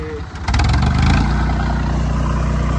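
A tractor engine kicks up and holds at about 1200 rpm, set for puddling a field. The roar is loud, steady and low, close to the listener, with a brief rise as the throttle opens.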